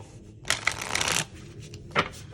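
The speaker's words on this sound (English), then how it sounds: "So these shuffle just as well as the tarot." A deck of oracle cards is riffled in a quick, crisp burst, followed by a brief pause and a second short shuffle, close up.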